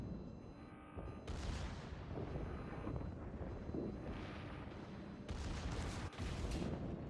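Battleship König Albert's secondary guns firing in the naval video game World of Warships, a series of booming blasts and rumbling bursts in quick succession over a steady low roar, with no talk.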